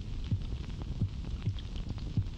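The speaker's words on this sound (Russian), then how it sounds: "Вот запись его пульса в обычном состоянии." A recorded heartbeat of a spiny dogfish shark pulses as soft low thumps about every three quarters of a second, steady and muffled over a constant hum.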